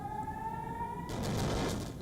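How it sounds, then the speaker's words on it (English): An air raid siren in Israel holds a steady wailing tone, then a sudden burst of loud broadband rumble and noise swamps it halfway through. "In Israel, there are sirens blaring."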